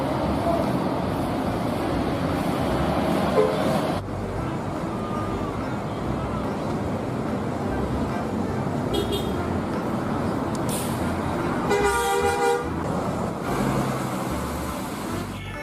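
Locomotive C03 train running with a steady rumbling roar, a brief horn toot sounding partway through, and the engine noise continuing around it.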